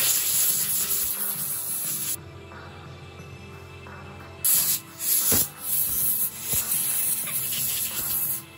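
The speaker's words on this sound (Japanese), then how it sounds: "とりあえず布で、できるだけね、水分拭き取ります。" A cloth rubs and wipes water off engine valve lifters during a Toyota 4A-GE cylinder head rebuild, with steady close scrubbing and brief pauses between strokes.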